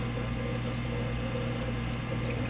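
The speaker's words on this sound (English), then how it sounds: "it's running that drain right now, getting all the water drained out." Samsung front-load washing machine pumping out water during its drain cycle, a constant low motor hum with gurgling flow, steady and close with no talk.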